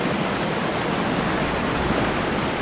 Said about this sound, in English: You've got these beautiful creeks like this one here below us